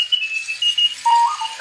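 A Clocky alarm clock sounds with high, thin electronic beeps and warbling tones, loud and close, in a short irregular burst.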